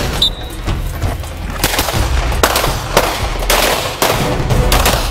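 Gunshots ring out during a firearms shooting drill at a training session in Atibaia, Brazil: several sharp, loud cracks in irregular succession, some close together, heard outdoors without talk.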